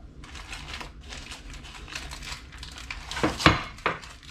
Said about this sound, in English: So I'm going to flip these with a plate.